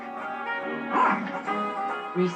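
A dog gives a run of high, yelping barks and whiny yips, close and loud, with short pauses between bursts.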